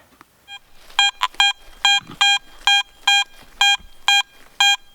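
A metal detector's high electronic tone beeps in a steady repeating pattern, about ten short pulses, loud and close, with faint rustling before it starts, at an old cellar hole holding silver coins.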